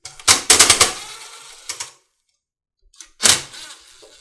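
Metal tool clicks and ratchets as bolts are loosened on a Husqvarna AWD push lawnmower's pulleys with a 7/16 wrench: a cluster of sharp close taps, a pause, then another short burst.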